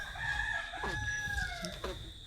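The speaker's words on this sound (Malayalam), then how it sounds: "കോഴി കൂവിക്കൊണ്ടേ ഇരിക്കുന്നുണ്ട്" A rooster crows nearby in one long, drawn-out call, with faint clucking and ambient noise around it.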